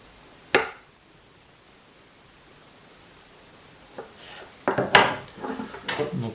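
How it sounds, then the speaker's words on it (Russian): A small plastic Garmin button is trimmed by hand to fit its hole, giving a sharp click, then a quiet stretch followed by a run of close scraping, rasping and small tapping sounds. "Сейчас попробую подрезать, чтобы она хорошо влазила в отверстие."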